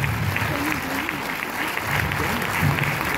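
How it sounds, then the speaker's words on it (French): An audience at a French film premiere in Orléans applauds two film producers, with continuous clapping from a crowd in a hall and a voice talking over the top. "on peut les applaudir"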